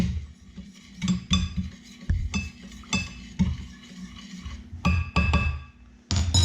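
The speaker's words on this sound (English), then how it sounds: "Stir that up a little" A metal soup spoon stirs GyuDemi sauce in a bowl, giving irregular clinks and scrapes against the sides in short bursts with quiet gaps between, close and without talk.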